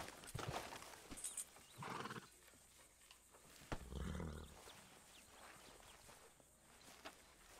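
A horse whinnies and snorts amid hoofbeats in Red Dead Redemption 2 on Xbox One, a couple of short calls over a busy in-game background with no talk.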